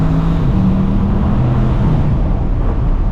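A Bentley Continental GTC Azure V8 running, a loud steady low rumble with droning tones, close up and alone without speech.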